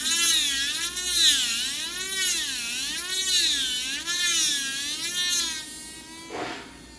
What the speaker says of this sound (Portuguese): Tem uma quinazinha aqui ainda, então eu vou passar mais um pouquinho a broca